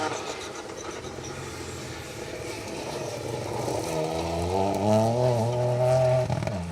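A 1-litre turbocharged R2 Ford Fiesta rally car on a forest stage at the Severn Valley Stages rally. The engine note builds from a distant drone into a louder, rising rev as the car closes in, with no talking.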